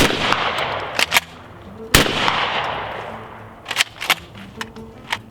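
Shotgun blasts from reloaded Winchester AA hulls crack out one by one at a range, with one especially loud report and several sharper, quicker shots later, ringing briefly after each.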